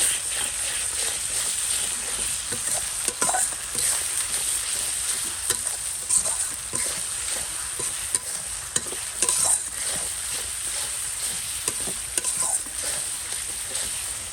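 Flour paste and spices fry in a pan, giving off a dense, steady sizzle that runs unbroken throughout, with scattered scrapes and clicks from stirring close by.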